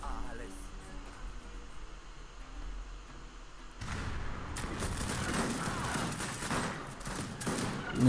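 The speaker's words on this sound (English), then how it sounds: "Slowly taking out the buildings with these mountain artillery." Mountain artillery in Age of Empires 3 fires in a dense burst of booms and crackling blasts in the latter half, following a quieter stretch, with a voice talking over the battle.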